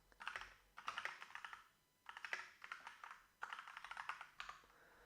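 Quick typing on a computer keyboard comes in three short bursts of rapid key clicks separated by brief pauses, close and fairly quiet, with no voices.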